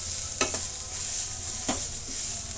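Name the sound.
grated carrot frying in pan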